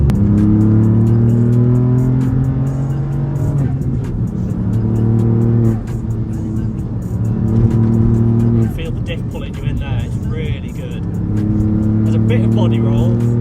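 Ford Fiesta ST MK8 engine pulling through the gears from inside the car, rising engine tone repeatedly climbing then dropping at each shift, steady and fairly loud, with a person talking over it.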